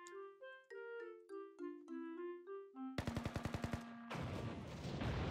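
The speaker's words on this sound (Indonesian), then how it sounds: "Apa itu tembakan? Tembakan." Melodic tones ring out in Blue Archive, then a rapid burst of automatic gunfire crackles in quick succession, followed by a loud sustained blast and noisy rumble.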